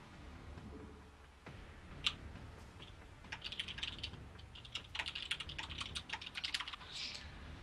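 Rapid, faint clicking of keys on a computer keyboard during a StarCraft match, a steady run of light taps building into quicker bursts with no voices.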